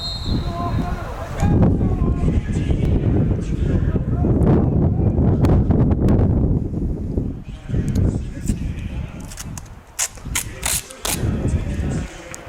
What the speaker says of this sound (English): We got swirling gusts, wind coming from different directions.